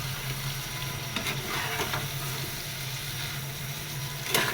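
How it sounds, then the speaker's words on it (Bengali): Shrimp fry in a pan with onion, ginger-garlic paste and spices, a continuous close sizzle with occasional stirring scrapes, moderately loud and without talk. "তো চিংড়িটা হালকা ভাজা হয়ে গেছে"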